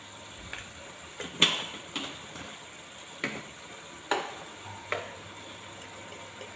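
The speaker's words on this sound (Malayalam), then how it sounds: "നമ്മുടെ തക്കാളി ഉള്ളിയെല്ലാം വഴന്ന് റെഡിയായിട്ടുണ്ട് ഇനി ഇതിലോട്ട് ഞാൻ ശാഖയിലെ മഞ്ഞൾപ്പൊടി ഇട്ട് കൊടുക്കുക" Turmeric is stirred into sautéed tomatoes and onions in a frying pan, a soft low sizzle punctuated by about half a dozen sharp taps and scrapes of the spoon against the pan.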